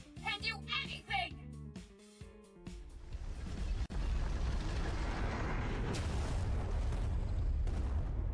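An explosion sound effect in a superhero audio drama: voices and music give way to a rising rumble and a loud sustained roaring blast that fills the space with dense low-heavy noise.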